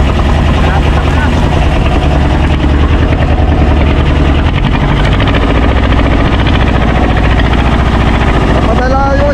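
A boat engine runs loud and close with a dense, rapid mechanical chatter that holds steady throughout, while people talk over it.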